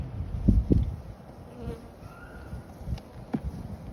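Bees hum and buzz close by, a dense low drone with a few louder passes near the start and end.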